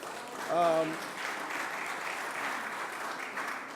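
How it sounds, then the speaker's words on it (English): A brief voice sounds first, then an audience at a mayoral press conference for a portrait unveiling breaks into soft, sustained applause that stays moderately quiet to the end. "You can clap for that if you want."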